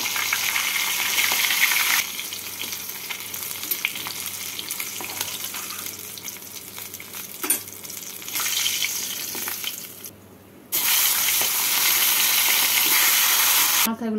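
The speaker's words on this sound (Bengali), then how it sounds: "এইভাবে বাকি যে মাথা আছে সেগুলোকে ভেজে নেব।" Fish heads fry in hot oil with a continuous loud sizzle and crackle, broken by a few clinks of a utensil and a brief quieter pause before the hiss returns strongly.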